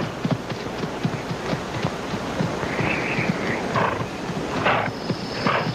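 Horse hooves clopping steadily on the ground, with restless movement suggesting a horse rearing in the wild forest hunt for a creature; a continuous rustle of wind or rain runs beneath the repeated hoofbeats, moderately near.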